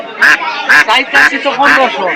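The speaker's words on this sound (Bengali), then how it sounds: "এই দেখেন বয়স্ক হাঁস" Ducks, older birds sold at a Bangladeshi village market, quack in repeated loud bursts about every half second, close by with market voices in the background.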